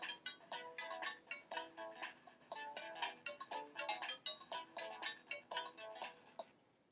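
A free custom electronic ringtone plays from a phone as a quick, bright repeating melodic pattern of short pulsing notes, fairly quiet, steady for several seconds with no talk.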